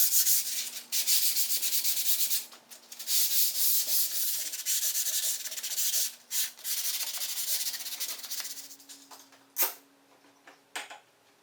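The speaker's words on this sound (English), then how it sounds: "now I'm just going to give it a very light sand with 220." A shutter gets a light hand sanding with 220 grit sandpaper: close, continuous rasping strokes in steady back-and-forth bursts, thinning into a few short scrubs and taps toward the end.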